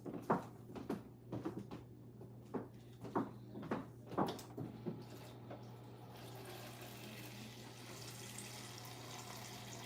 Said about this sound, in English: We're gonna add more water to this.